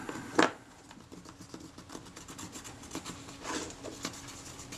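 Old grease is wiped and scrubbed off the front panel of a Retina Reflex S camera, giving soft close rubbing and scraping strokes, with one sharper scrape near the start and quieter uneven rubbing after.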